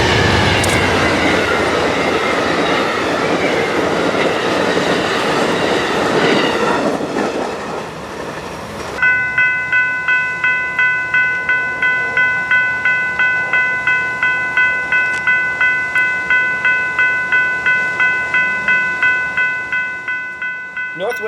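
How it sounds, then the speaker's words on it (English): Amtrak's northbound Silver Star passenger train rumbles past loudly in Pompano Beach, Florida, then the level crossing bell rings in a steady repeated clang while the train noise fades away. "we catch Amtrak 92 northbound Silver Star in Pompano Beach."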